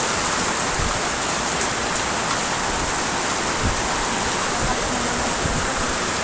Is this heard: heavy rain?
yes